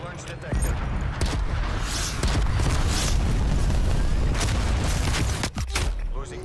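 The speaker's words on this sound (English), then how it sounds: "Enemy cruise missile launch" A cruise missile strike in Call of Duty: Black Ops Cold War produces a sustained, heavy rumbling roar of explosions and distant gunfire, loud and continuous, with a voice speaking over it.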